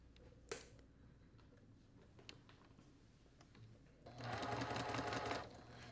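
A sewing machine fitted with a 1/4 inch foot stitches a quilt block in a short, fast, quiet run of about a second and a half, after scattered faint clicks and handling noises.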